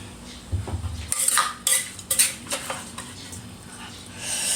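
A pestle pounds and grinds som tam with pla ra in a mortar, a close series of uneven knocks, scrapes and clatters with short pauses between strikes.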